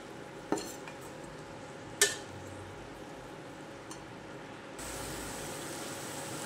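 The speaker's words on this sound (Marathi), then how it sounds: "हा माझा घरगुती मसाला। आपण छान याला कालवून घेऊया आधी।" Homemade masala being mixed in a pan. A few sharp clinks of a utensil against the pan stand over a steady low background, and a faint hiss rises near the end.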